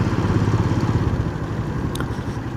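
A Royal Enfield motorcycle on an off-road ride rumbles with a loud, rapid pulsing thump that smooths into a steadier drone, with no speech.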